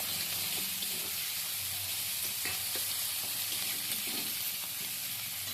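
Masala spices sizzle hard in hot oil, a loud unbroken hiss with scattered spattering pops and a few light stirring knocks, close and steady throughout.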